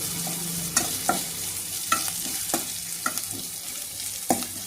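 Onions, green chillies and beetroot frying in a pan for beetroot fry while a spoon stirs them, steady sizzle broken by a series of sharp scraping knocks at irregular intervals, close up with no talking.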